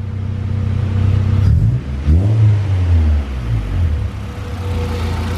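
Car engine idling with a low rumble, then revving up and settling back in a couple of swells, loud and close with a rough, steady drone throughout and no talking.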